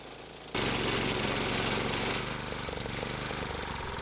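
Small gasoline engine on a sod cutter starts up abruptly and keeps running steadily and loudly at close range, a continuous mechanical drone with rough, rattling texture and a slight drop in level partway through.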